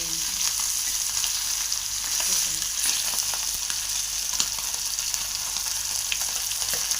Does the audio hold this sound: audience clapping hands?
no